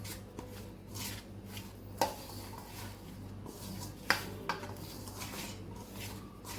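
Flour being mixed with oil in a bowl for Kathiyawadi vanela gathiya dough: quiet, steady rubbing and scraping with a couple of sharp clinks against the bowl around the middle and two-thirds mark, no talking.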